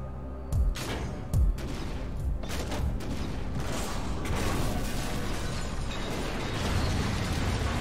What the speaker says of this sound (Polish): Przyznać, że ten wybuch był rzeczywiście bardzo ładny